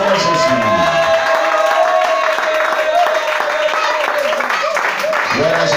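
A church congregation claps and cheers together in a steady, loud roar of applause that fills the space, with a sustained sung or held tone running through it and a voice coming in near the end.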